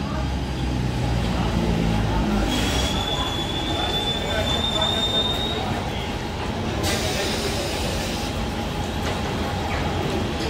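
A Mumbai Central Line local train moves through a station, its wheels squealing and carriages rumbling loudly and continuously, with a brief high screech partway through.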